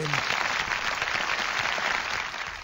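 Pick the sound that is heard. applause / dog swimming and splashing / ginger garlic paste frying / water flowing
applause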